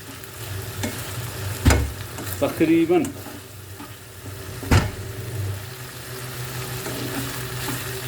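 Black chickpea masala (ghugni) frying in oil in a pan, a steady soft sizzle with a couple of sharp knocks from stirring and a brief scraping squeal.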